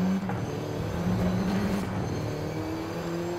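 Stock-engined Volkswagen Golf hot hatch accelerating on a highway in Forza, a steady droning engine note with rising harmonics, continuous and fairly loud with no talk over it.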